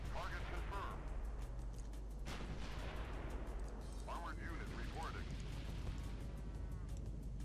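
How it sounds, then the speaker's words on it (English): A soldier opens fire in Sudden Strike 3, scattered distant shots and heavier artillery-like booms in a wartime strategy game, with someone talking over them. "He's like opening fire upon those bastards."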